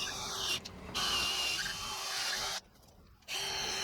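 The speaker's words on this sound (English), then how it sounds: "In this case, it's an 18-inch long by 5/16-inch drill bit." A power drill turns an 18-inch long, 5/16-inch bit, running steadily at low level with two brief pauses where the motor stops and restarts.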